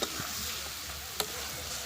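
Cumin, chili and turmeric powder frying in oil in a pan, giving a steady close sizzle with a sharp click of a utensil partway through.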